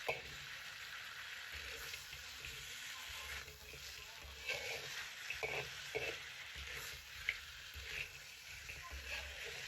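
Scallion pieces stir-fried in a wok for stewed pork ribs with potatoes, a steady close sizzle with scattered scraping clinks of the spatula throughout.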